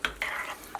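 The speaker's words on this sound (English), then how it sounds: "So just kind of mix that up a bit" A spoon stirs thickened beef shank broth in a slow cooker, a few quick scrapes and clinks against the crock, close and brief with no talk.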